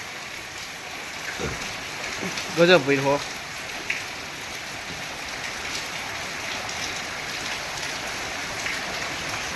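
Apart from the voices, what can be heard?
rain falling on farm fields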